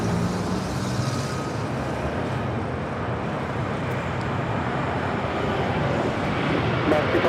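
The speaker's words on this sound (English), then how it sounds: "This is American Airlines 1006 taking off to Chicago O'Hare on a 737-800" American Airlines Boeing 737-800 taking off from LAX, a broad steady jet roar heard from a distance, continuous and even throughout with no talk in the clip.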